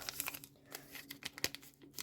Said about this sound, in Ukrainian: Давайте відкриємо сьогоднішній пакетик.